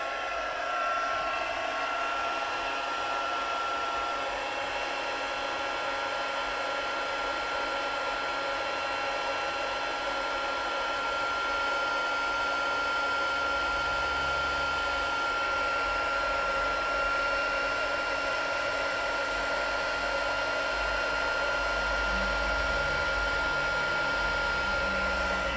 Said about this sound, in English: let's get the heat gun on this one. So just letting that heat up.